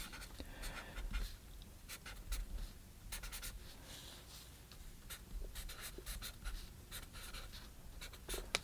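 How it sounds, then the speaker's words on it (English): A pencil sketches a preliminary drawing on printer paper for a watercolor still-life flower painting, giving steady, close scratchy strokes in quick irregular bursts with no one talking. "So the first thing we want to do is we want to do a preliminary sketch."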